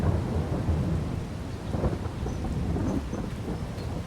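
Rain pours steadily on a farm in Farming Simulator 22, with a deep rolling rumble of thunder running beneath the constant hiss of the downpour.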